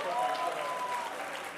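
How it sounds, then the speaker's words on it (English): Audience applause at an insurance sales kickoff event, a dense, steady wash of clapping from a large crowd that holds for the whole moment, with faint voices mixed in. "Let's give a warm round of applause to our speaker"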